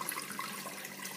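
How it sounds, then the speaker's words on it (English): Water pours steadily into an old pot for stuffed acorn squash, a continuous close splashing and trickling rush that runs the whole moment without pause and with no talk over it. "Put some good water."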